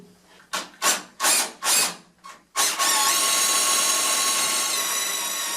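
Power drill tapping threads into splitter mounts on an MR2 AW11, several short loud bursts of the drill starting and stopping, followed by one long continuous whirring run that sustains to the end.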